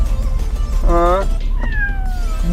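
A house cat meows inside a car during a ride: one clear, drawn-out meow and then a shorter rising one, close by over the low hum of the moving vehicle, with a person talking nearby.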